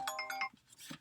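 A phone ringtone sounding for an incoming call, a short bright melodic chime of several tones, then a brief softer noise as it cuts off.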